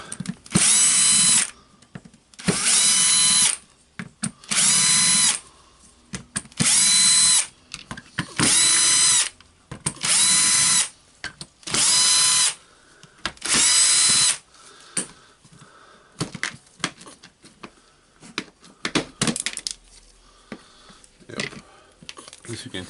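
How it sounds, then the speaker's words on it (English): Cordless drill driver unscrews the housing screws of a DeWalt DCF886 brushless impact driver being repaired, giving eight loud, evenly spaced whirring bursts of about a second each, followed by quieter clicks and handling of small parts. "Now we need to unscrew all the screws from the housing."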